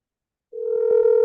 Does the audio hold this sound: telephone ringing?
yes